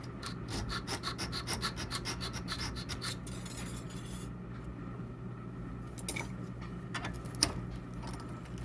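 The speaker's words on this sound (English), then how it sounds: "I'm going to put some little slots" Metal being filed or cut with small slots by hand, a quick rapid rasping for about three seconds, then quieter scraping and faint clicks, close by, for a fix on a 2005 Ski-Doo GSX gas gauge held in a vise.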